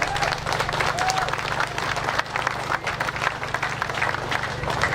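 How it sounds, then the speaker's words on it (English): A crowd applauds at an outdoor classic and American car show in Wakefield, a steady wash of clapping over a low engine hum running underneath throughout. "A round of applause for us."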